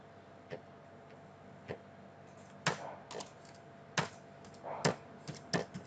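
Keyboard typing while entering a practice line in Adobe Photoshop CS: irregular clusters of clicky keystrokes, close and moderately quiet, with short pauses between bursts and no talking.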